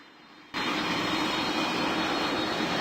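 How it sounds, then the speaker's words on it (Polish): Airplane engine in a pilot-training video game starts abruptly after a quiet moment, then holds a loud steady whine and roar. "No i klikamy E, żeby włączyć silnik."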